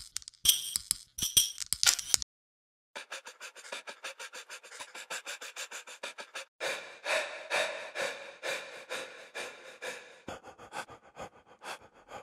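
Rhythmic breathing samples from the Audio Imperia Tempus sound library, close and dry: quick gasps, then a run of short panting breaths in a triplet-like pulse, with brief silences between phrases.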